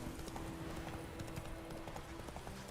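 Steady clip-clop of Roach's hooves in The Witcher 3, a continuous trotting rhythm under faint game ambience, moderate and even throughout.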